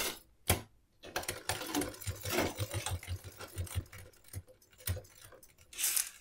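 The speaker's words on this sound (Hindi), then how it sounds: "यहीं पे बिल्कुल किनारे पे सिलाई लगा देनी" Sewing machine running stitches along the edge of a blouse with a deep neck, rapid mechanical whirring in several close bursts with short pauses between, and no talking.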